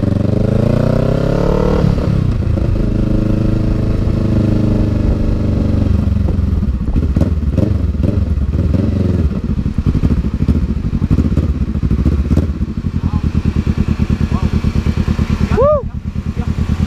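A Kawasaki Ninja 650 big bike ridden: a loud engine rumbles and revs steadily, settling into a rapid even throb near the end, with a voice speaking over it.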